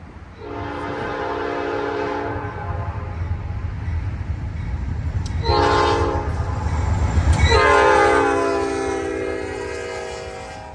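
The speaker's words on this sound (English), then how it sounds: "I was delighted to see the triangle headlight pattern of a second train swiftly approaching." A freight train hauling UPS piggyback trailers rushes past, its horn sounding in long blasts near the start and again toward the end over a steady rumble of rolling cars.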